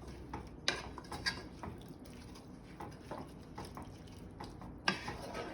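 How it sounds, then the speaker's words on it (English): Food being stirred in a pot gives faint scraping and clinking of a utensil against metal, with soft liquid sloshing and a few sharper taps, quiet and close. "give this a good stir"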